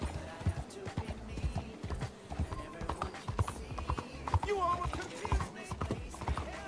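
Horse hooves clip-clopping in a steady galloping rhythm while riding in the Western game Red Dead Redemption 2, close and moderately loud, with occasional whinnies and faint game voices underneath.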